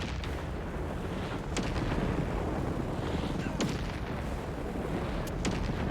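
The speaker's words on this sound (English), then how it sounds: "got visual on the enemy artillery, so I can start bombarding it with my artillery" An artillery bombardment in the Company of Heroes 3 video game, with a dense wash of battlefield noise broken by several sharp, booming impacts and shots at irregular intervals, and faint talk mixed in.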